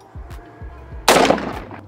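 A single unsuppressed 5.56 rifle shot from an 11.5 inch barrel, fired outdoors: one sharp, loud crack with a broad burst and short decaying tail, following faint low thumps.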